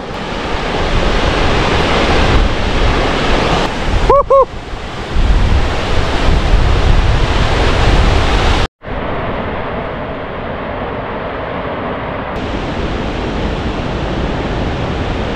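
A loud, steady roar of a rushing waterfall fills the whole clip, broadband and unbroken, with a brief dropout partway through before the roar resumes.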